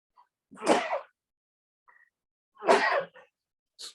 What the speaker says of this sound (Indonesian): lagi bersin-bersin